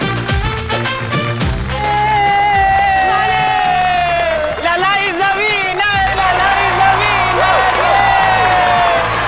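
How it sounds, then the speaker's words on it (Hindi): A studio crowd cheers and whoops for the winner of a contest between husbands. Loud, dense voices shout and call out continuously over a tonal music-like line, and there is some scattered clapping. "जो आज के विनर हैं, उनके लिए जोरदार तालियां बजाइए।"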